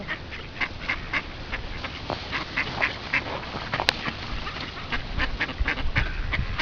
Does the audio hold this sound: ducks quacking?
yes